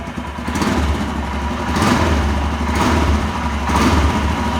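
A 400 cc single-cylinder Royal Enfield Himalayan motorcycle engine revs up repeatedly, loud and close to the exhaust, with three distinct throttle blips over a steady rumbling idle.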